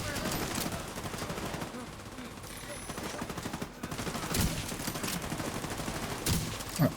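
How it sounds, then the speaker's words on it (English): An automated turret firing in a video game, a continuous rattling stream of rapid shots with a few heavier bangs, fairly loud, with faint speech now and then. "Setting up turret"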